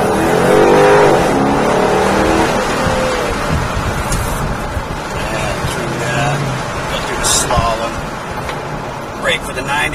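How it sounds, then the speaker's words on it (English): A 2013 Mustang GT accelerating on a test track: a loud engine roar that rises and shifts in pitch across ten seconds, close up, with people talking over it. "Test drive, 2013 Mustang GT."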